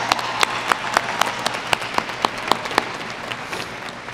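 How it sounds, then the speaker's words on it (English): Scattered clapping from a high school graduation audience, individual claps standing out over a soft steady wash of applause, moderately close and fairly sparse, with no voices. "give them a big round of applause."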